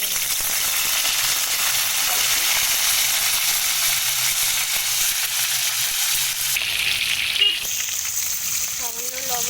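Potatoes fry in hot oil for a mutton curry, giving a steady, loud, continuous sizzle and crackle close by that barely changes.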